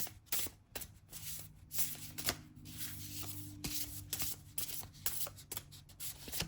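Oracle cards are shuffled by hand in quick, irregular riffling bursts with brief pauses, close and soft, with no speech.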